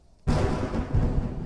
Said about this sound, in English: Entrance lightning.